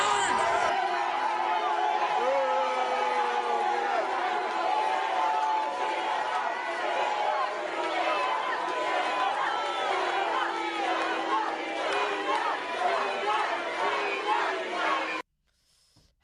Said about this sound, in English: to which the crowd started booing